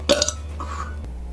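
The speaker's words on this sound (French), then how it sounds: "Je peux roter aussi fort que lui." A loud, short burp from a man, close and abrupt, standing alone without talk.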